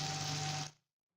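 Water poured into a pot of rice and peas for matar pulao, a steady close splashing stream lasting well under a second before cutting off abruptly to silence.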